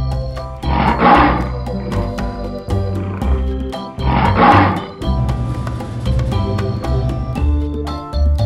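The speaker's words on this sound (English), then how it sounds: "The lion goes." A lion gives two loud, drawn-out roars a few seconds apart over cheerful children's song music that keeps playing throughout.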